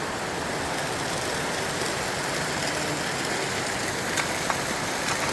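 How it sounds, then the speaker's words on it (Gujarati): Heavy monsoon rain pours down outdoors during a power outage, a dense, steady roar of falling water that stays even and constant throughout, with no voices over it. "જો આઈ ક્લાસનો વરસાદ આવી ગયો,"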